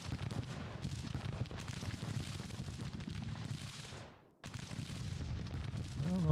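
Artillery fire rumbles on the battlefield of Grand Tactician: The Civil War, a continuous dense stream of booming shots and crackling volleys with a brief drop-out before the barrage resumes.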